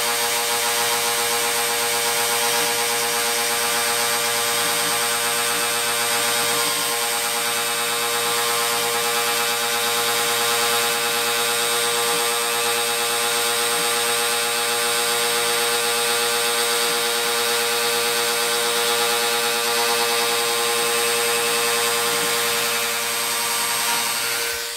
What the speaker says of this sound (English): ran the Dremel and just held it and cut the little bit of the line on the top there